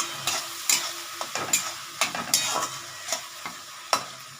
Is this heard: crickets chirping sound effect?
no